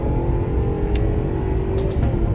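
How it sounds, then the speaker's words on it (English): A worn, aging car's engine drones steadily with a low rumbling hum, with a few brief higher clicks and squeaks over the constant noise. "My car is making all this sound."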